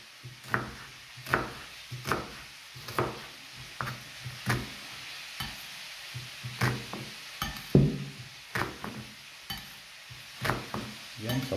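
Soft, steady sizzle of chicken feet frying in oil, with frequent clacks of a utensil stirring or turning them in a pan, fairly quiet and close.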